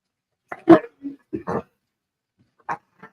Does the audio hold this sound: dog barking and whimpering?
yes